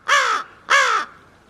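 Crows cawing on a cold winter day: two loud, close, harsh caws in quick succession, each about a third of a second long, with quiet between them.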